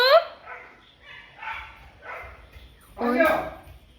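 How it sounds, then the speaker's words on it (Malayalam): A dog barks outside in a few short bursts, with a louder yelping cluster near the end. Voices are also heard nearby. "നായി പുറത്തുനിന്ന് ഇങ്ങനെ കൊരിക്കുകയും ചെയ്യാൻ"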